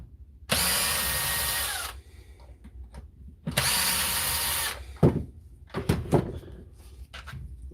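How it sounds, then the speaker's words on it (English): Australian power drill with a fault, run in two sustained bursts of roughly a second and a half each, loud and whining, followed by shorter clicks and brief mechanical knocks. "an Australian drill that has got some problems down under."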